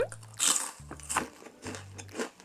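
Three crisp, close bites into a frozen black bean soy milk wafer, each a sharp crunch spaced evenly apart, with faint chewing between them.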